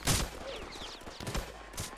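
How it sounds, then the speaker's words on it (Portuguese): Bursts of gunfire from the buggy update of the video game Headcrab Infection crack in quick succession, several sharp shots spread over a couple of seconds against a busy game background. "Ele tá me dando tiro."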